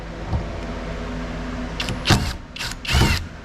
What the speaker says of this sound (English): I get my drill with a flathead bit on it